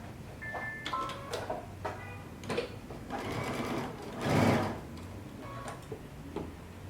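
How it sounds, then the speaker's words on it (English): A sewing machine stitches a dart on a tunic, with short bursts of rapid mechanical clatter and ticking, close by and moderately loud, separated by brief pauses and small handling clicks. "And we're going to sew."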